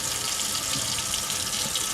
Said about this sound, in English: I'm going to mix up some warm water and some palm olive in this little cup because it has a nice little spout on it.